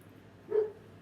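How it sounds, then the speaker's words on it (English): A single dog bark or yip, fairly faint and distant, rising briefly out of a quiet indoor room with no one talking. "And sorry about the dog."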